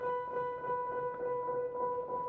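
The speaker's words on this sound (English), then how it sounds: "it's a low pass filter, which means all the high end's gone" Keys played through a low pass filter effect give a muffled, sustained chord with the high end rolled off, quiet and steady throughout with no talking.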